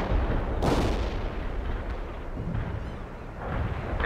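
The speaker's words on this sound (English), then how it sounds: "Artillery strike anywhere, sir." Artillery strike in the World in Conflict video game: heavy rumbling blasts and booming impacts roll in a dense, continuous barrage, with a sharper burst early and more thuds toward the end.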